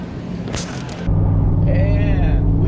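Third-generation Camaro Z28 on a cruise, its engine a steady, loud, close low rumble that rises after a brief rush of wind noise, with a faint whistle riding above.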